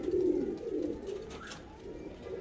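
A fancy pigeon kept by a hobbyist gives deep, throaty coos that rise and fall in a soft repeating rhythm, heard up close.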